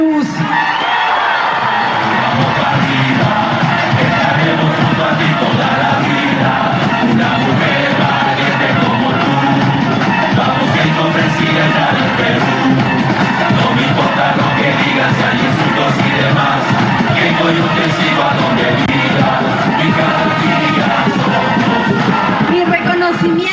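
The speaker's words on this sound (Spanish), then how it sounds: "Un aplauso para Luz." A crowd in Peru's Congress roars with yells, whoops and cheers for Luz Salgado, a loud, dense, continuous din that holds steady throughout with voices mixed in.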